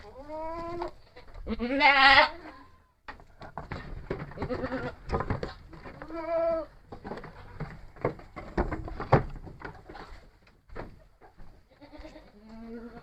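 Goats bleating repeatedly in a livestock pen, several loud nearby wavering calls between shuffling, knocking and pen noises, with no talk.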